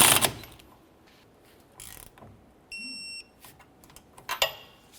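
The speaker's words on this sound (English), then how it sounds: "Now we can put this nut on here, we'll bottom it out and then torque it to 46 foot-pounds." Intermittent ratcheting clicks and short metallic bursts of a tool tightening the rear shock nut on a 2001-2005 Ford Explorer Sport Trac, with a brief electronic beep tone in the middle, close and otherwise quiet.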